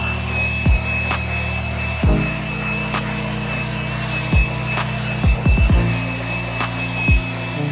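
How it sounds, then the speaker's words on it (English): A drill-powered brush scrubs a coffee-stained fabric car seat, a loud continuous motor whir with a gritty scrubbing texture and repeated pitch drops as pressure shifts against the upholstery. "We're just gonna go ahead and soil it and hit it with our drill brush for agitation."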